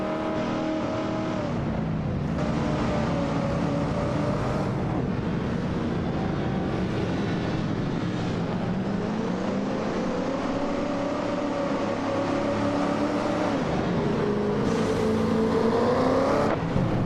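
A 1962 Facel Vega race car engine in a racing video game holds a steady, loud drone throughout, its pitch rising and falling as it revs through gear changes.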